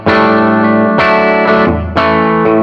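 Electric guitar on a full humbucker through a clean Blackstar amp with a light TC Hall of Fame reverb, three ringing chords struck about a second apart, each sustaining and decaying with a soft wash of reverb.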